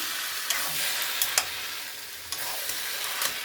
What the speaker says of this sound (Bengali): গরম মশলা দিয়ে নাড়িয়ে দিলাম